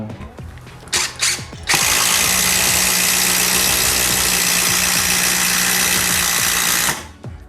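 Kyocera cordless impact driver driving screws, a couple of short bursts followed by one long continuous run of dense rattling hammer impacts over the motor whine, close and loud, ending abruptly.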